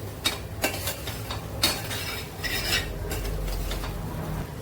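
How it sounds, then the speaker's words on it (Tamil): Onions being sautéed with salt in a pan for Andhra-style fish gravy, with a spoon clinking and scraping against the metal several times in irregular strokes over a light sizzle, close, with no voices. "நான் அதுக்கு உப்பு போடுறேன். வதக்கிக்கிறேன்."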